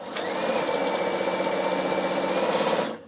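A Bernina sewing machine stitches fabric at high speed, giving a continuous close mechanical whir with a fast, even rhythm that runs for almost three seconds and then stops abruptly.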